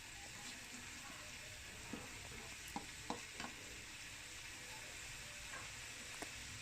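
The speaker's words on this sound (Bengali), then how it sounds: "এখন আমি এইগুলো ভালো করে একটু কষিয়ে নিচ্ছি" Vegetables for a Chinese-style curry stir-fry in a pan with a faint, even sizzle and a few soft scraping taps from the spatula, heard from a distance.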